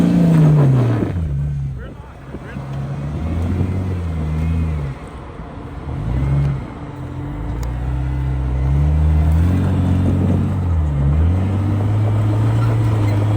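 A Chevrolet truck grinds up a steep off-road hill, its engine revving and bogging in long surges that rise and fall, loud and close, while people talk and shout over the straining motor.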